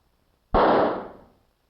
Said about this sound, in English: When that firecracker went off, it made quite a fuss, didn't it?